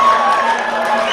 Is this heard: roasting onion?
no